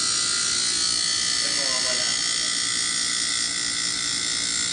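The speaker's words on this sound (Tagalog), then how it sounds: "Compressor ang maingay." Loud, steady droning hum of a noisy compressor in a window-type air conditioner, running continuously close by with a harsh buzzing tone.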